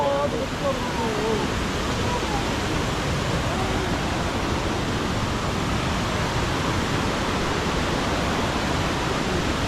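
Tat Kuang Si waterfall in Laos roars with a broad, constant rush of falling water, loud and unbroken, while someone talks faintly over it at the start.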